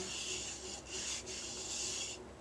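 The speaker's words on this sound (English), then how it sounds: "to move the lavender around the bowl" Dried lavender is stirred and pushed around a bowl, giving a close, continuous soft rasping and rustling with brief dips in intensity. No one speaks.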